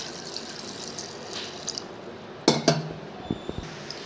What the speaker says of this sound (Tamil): அது வேகிற அளவுக்கு நம்ம தண்ணி ஊற்றிக்கலாம்.